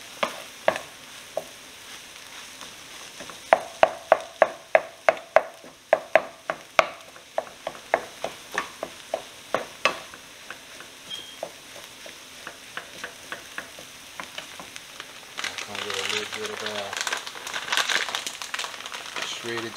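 A spoon stirs bacon bits into stuffed potato filling in a bowl, making a run of crisp, rhythmic scraping strokes that slow and fade, then a louder rustling, crinkling stretch near the end.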